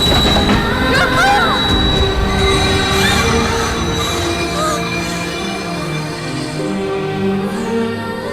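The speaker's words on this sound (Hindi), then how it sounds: "स्टॉप, रोको, स्टॉप, रोको, रोको ट्रेन को" Train running on rails, a loud, close rumble with shrill wheel squeals and metallic ringing tones, continuous for several seconds, with a faint voice in the background.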